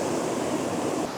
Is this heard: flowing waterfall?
yes